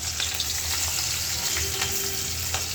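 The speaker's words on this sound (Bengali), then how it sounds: "তো আসেন মাছগুলো ভাইজে নিই" Tengra fish frying in a pan, a steady loud sizzle and crackle of hot oil with occasional sharper pops and spatters, close and continuous with no talking.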